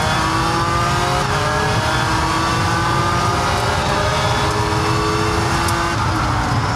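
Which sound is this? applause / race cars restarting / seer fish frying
race cars restarting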